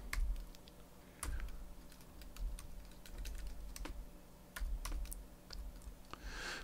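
Rapid typing on a computer keyboard, close and clear, with bursts of key clicks in an uneven rhythm over a faint steady hum, no talking.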